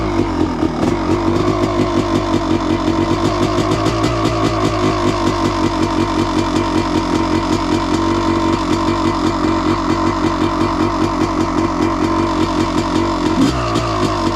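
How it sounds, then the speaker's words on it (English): A 1985 Honda CR250 two-stroke dirt bike engine, fitted with new Boyesen reeds, idles steadily and loudly up close, with a rapid, uneven, rattling pulse throughout and no talking. "First start with the new Boysen reeds."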